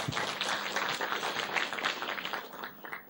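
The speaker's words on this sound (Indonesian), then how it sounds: "Tepuk tangan buat TNC." Steady applause from an audience at a marketing presentation, dense overlapping claps filling the whole stretch at moderate volume with no talk over it.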